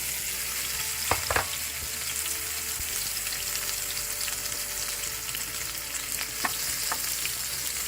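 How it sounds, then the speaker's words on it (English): Parboiled microwaved potatoes fry in a small pan with a constant bright sizzle, marked by a couple of utensil knocks early on and occasional light scrapes, with no voices. "We're going to try and fry our potatoes the rest of the way."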